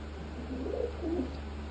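A large pigeon coos softly in two short, low phrases over a steady low background hum, faint and fairly close.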